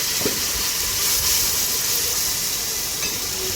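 Bengali spice paste (masala) frying in oil in a pan with a splash of water for a fish curry, giving a loud, steady, close hiss and sizzle with no talking.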